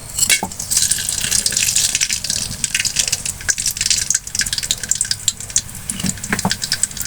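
Whole garam masala spices hit hot mustard oil in a home kitchen while a country rooster curry gets started, giving a steady, close, loud hiss and crackle with scattered pops throughout.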